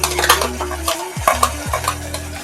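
Masala paste stirred into frying onions, curry leaves and tomato for a village-style broad bean curry, giving scraping, clinking spoon strokes in uneven bursts over a steady low hum, fairly close.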